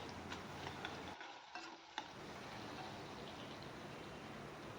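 Tomato with cumin, turmeric and salt frying in hot oil in a pan, a steady close sizzle with brief stirring scrapes and a short pause in the middle.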